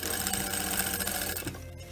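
Sewing machine topstitching the seams of a fabric mask, a fast steady mechanical whir close by that runs continuously and then stops near the end, with no voices.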